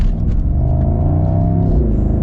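A Mercedes-AMG SL55 V8 in sport mode with the exhaust valves open revs up and settles, a loud close throaty rumble rising and falling over about two seconds, alone without voices.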